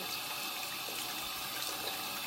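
Paintbrushes being rinsed under a running tap, a steady close wash of flowing water splashing into a sink with no voices.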